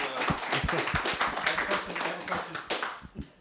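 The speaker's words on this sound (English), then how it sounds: "let's have a round of applause for David." A crowd applauds with dense, steady clapping that tapers off toward the end, with a few voices mixed in.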